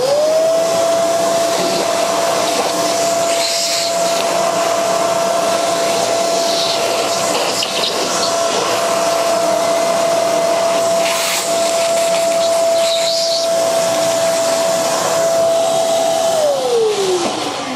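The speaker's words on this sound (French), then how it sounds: "Je vais même passer l'aspirateur" A vacuum cleaner whines steadily and loudly at close range inside a bike shop for most of the stretch, then its motor winds down at the end.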